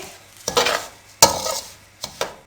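A spoon stirring semolina in a wok over a low flame: three distinct scraping strokes with a soft dry sizzle and gritty rustle, close up and quiet between strokes.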